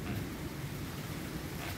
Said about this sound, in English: Lightning, a little bit of lightning and thunder.